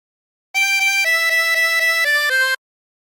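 A tremolo harmonica plays a phrase of She'll Be Coming Around The Mountain: a quick run of about eight close, clean notes shifting in pitch, with silence on either side.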